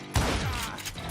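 Gunshots in the Western shooter Call of Juarez: Gunslinger, two sharp loud cracks with a ringing tail between them, close and alone with no voice.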